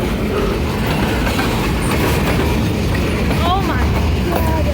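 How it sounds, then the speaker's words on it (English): Freight train cars roll past on the Kiamichi Railroad in Idabel, Oklahoma, a loud steady rumble with clickety-clack and brief faint wheel squeals near the end. "I miss the smell of a train and the cars just going across."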